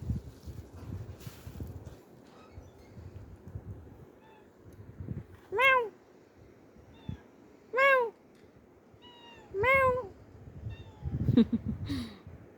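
A cat meows three times in a row, each call loud and close with clear pauses between them, over faint background noise and a brief rustle near the end.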